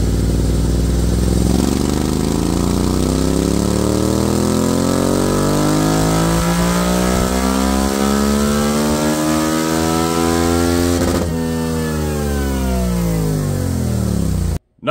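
A Honda Transalp motorcycle engine runs loud and close during intake and airbox testing, revving up in a long steady climb, dropping back, then climbing again before cutting off abruptly at the end.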